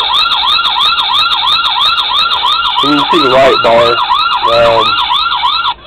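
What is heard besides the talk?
police car siren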